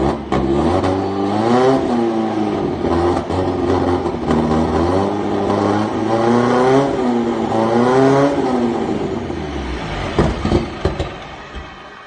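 A turbocharged 1600 engine with a draw-through turbo running and revving, its pitch rising and falling in several swells, loud and close, before it settles toward the end.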